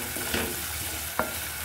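Garlic cloves going into onions already frying in a pan for a chicken dish: a continuous close sizzle with a few light clicks and stirring taps.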